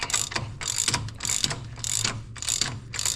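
A socket ratchet clicks in quick repeated bursts while loosening the priority valve on a large-frame Oliver 55 series tractor. The strokes are close, loud and rhythmic, with no talking.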